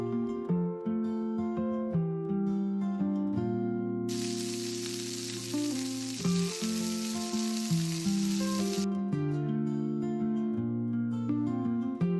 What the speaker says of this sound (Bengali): দিয়ে দিলাম পরিমাণ মতো তেল এবং প্রথমে আমি আলুটাকে ভেজে নেব